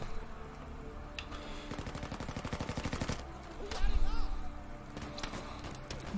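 Sustained automatic fire from Battlefield 5, a steady rattling stream of shots followed by scattered single bangs and a heavier blast, with a player talking over the combat.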